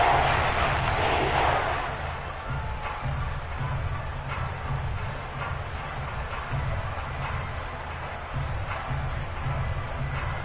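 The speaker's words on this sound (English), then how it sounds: "This red zone is where the Seahawk crowd really makes it tough for an offense to communicate." A loud, sustained roar from the home crowd at a Seattle Seahawks football game against the Rams, an unbroken wash of cheering that swells at first and then holds steady.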